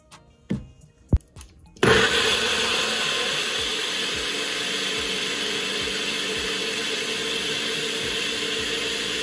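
A countertop blender blending strawberries and cream starts after a few short knocks and clicks, then roars in a loud, steady whir that runs without a break to the end of the clip.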